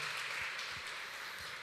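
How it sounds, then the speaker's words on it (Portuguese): Church congregation applauding in worship, a steady broadband wash of many hands clapping together, moderately loud and continuous with no voices on top. "Dê um forte aplauso a Ele"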